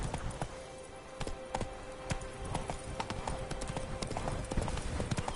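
Horse hooves gallop at a quick, even clip-clop rhythm in a PS4 video game, with sharp repeated beats running throughout over a busy background of game sound.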